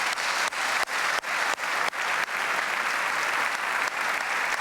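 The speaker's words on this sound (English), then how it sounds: "Final round of applause to them." Audience applause for football award winners at a televised draw ceremony, broken early by a series of sharp rhythmic cuts, then settling into steady, full clapping to the end.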